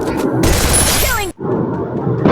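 Gunfire and heavy booms from a Free Fire style mobile shooter game, a loud continuous burst of shots that cuts out abruptly, then resumes as sustained game noise.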